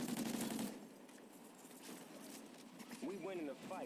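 Gunfire from a Call of Duty Ghosts match with drop-shot play, an opening burst followed by scattered quieter shots, with background game sounds and a brief warbling effect near the end.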